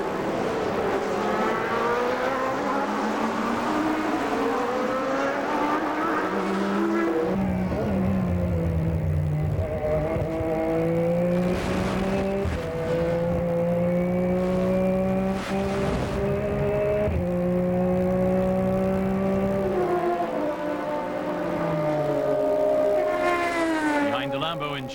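Le Mans Series prototype race cars, including LMP1 Ferrari Maranellos, scream past at Monza. Engine notes rise and fall loudly through gear changes, one car after another sweeps by, and a commentator talks over the racing.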